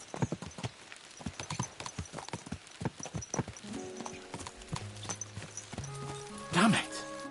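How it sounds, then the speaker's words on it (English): Horses' hooves clip-clop in a steady walking rhythm, close and clear, before music enters and a horse whinnies briefly near the end. "Let's really spur these horses on, eh?"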